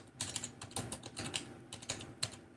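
Rapid clattering keystrokes on a computer keyboard, close and steady with a few faster flurries, quiet in a still room with no talking.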